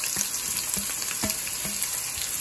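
Sliced medium-sized onions frying in hot oil for saag gosht, a steady close sizzle broken by a few brief stirring scrapes and clinks, with no talking.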